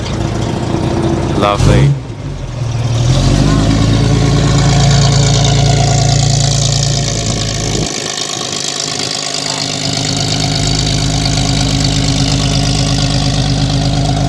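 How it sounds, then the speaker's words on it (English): A 1960 Jensen 541R inline six-cylinder engine cranks and fires up, then settles into a steady, smooth idle that runs on loud and close for many seconds, with a brief word spoken early on. "inline 6-cylinder engine, very quiet up front"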